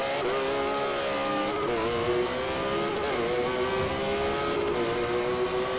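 A Porsche 911 GT3 race car engine in Forza Motorsport 4 at Road Atlanta holds a steady, droning note with small pitch shifts throughout, heard close and alone.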